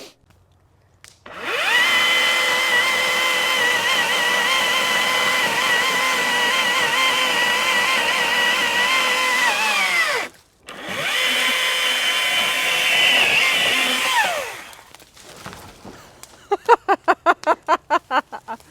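A Husqvarna chainsaw cuts into wood at a barn, roaring loud and steady for about nine seconds, dropping briefly, then screaming through a second cut before winding down into a rapid sputtering idle.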